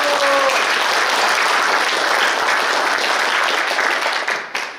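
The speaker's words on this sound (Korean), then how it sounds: "큰 박수 한번 해주시기 바랍니다" Dense, sustained applause from an audience at a Korean military academy alumni association ceremony, loud and steady throughout before tapering off at the very end, with no talk over it.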